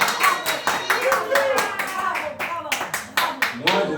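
A church congregation clapping together in a steady rhythmic beat, loud and close, with voices mixed underneath.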